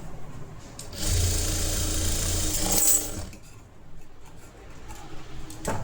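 A sewing machine stitches the side seam of a princess-cut blouse in one quick, whirring run of about two seconds, then stops, leaving quiet room sound.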